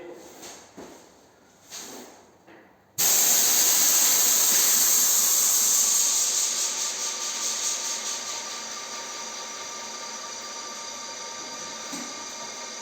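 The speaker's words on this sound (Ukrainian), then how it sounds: "При нажатті на кнопку срабатывает моторчик и подает." A paint sprayer's pump motor switches on abruptly after some faint knocks and handling noises, then runs with a loud, steady hissing spray of rubber-based water emulsion paint that eases off slightly over time.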